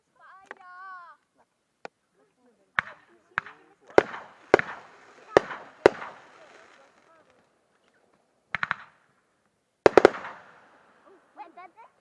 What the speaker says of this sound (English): rack of Excalibur mortars